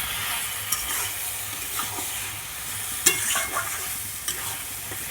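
Masala with a pinch of sugar sizzles and fries in a pan while being stirred, a steady close hiss broken by a few sharp scraping strokes of the spatula, with no talking.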